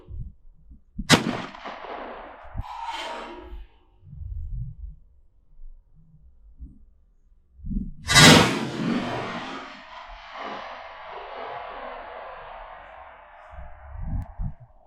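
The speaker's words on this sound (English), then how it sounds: "So let's see what this 28 gauge does." Two loud 28 gauge shotgun blasts outdoors, the second ringing out with a long fading echo, separated by quiet stretches with faint low rumbles.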